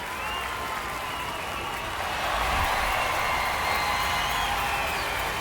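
Home crowd in MLB The Show 26 roaring after a walk-off grand slam, a dense continuous wash of cheering and applause that swells slightly and holds at full volume throughout.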